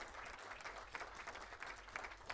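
Applause from an audience gathered at a women's leadership awards ceremony, a steady soft wash of clapping that stays fairly quiet and even from start to finish.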